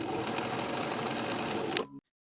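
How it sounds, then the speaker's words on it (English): A sewing machine stitches a buttonhole on a jacket placket, its dense, continuous rattle running close and steady for two seconds before stopping abruptly. "Now I'll sew them in place."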